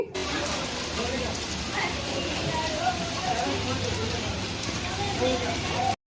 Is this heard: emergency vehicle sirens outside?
no